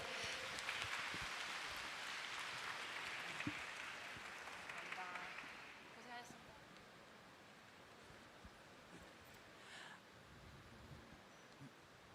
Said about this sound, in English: Let's give a big applause to them.